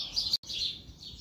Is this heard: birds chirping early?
yes